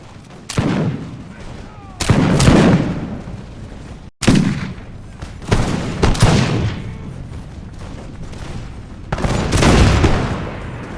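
Musket volleys and artillery booms in a Revolutionary France era Imperial Splendour battle, loud and rolling, with repeated bursts of crackling gunfire and heavy thuds every second or two, dense and continuous.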